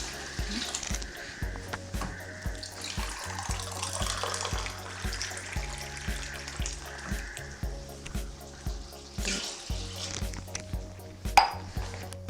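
Twelve glasses of water poured into a cooking pot over basmati rice for Andhra-style prawn biryani: a steady splashing pour in repeated bursts, moderately loud and close, with a low musical hum underneath.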